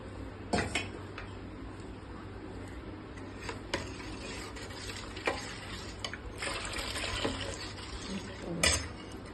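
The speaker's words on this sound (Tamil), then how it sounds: "இது கொஞ்சமாக இளநீர் அதையும் சேர்த்து மிக்ஸ் பண்ணுவோம்." Tender coconut water is poured into payasam and stirred in a pot. Faint liquid sloshing mixes with soft clinks and taps of a spoon against the vessel, all fairly quiet.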